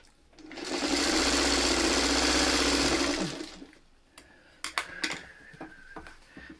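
A sewing machine stitches a quilt block seam in one rapid, continuous burst of about three seconds. Afterward come a few scattered clicks and fabric handling noises.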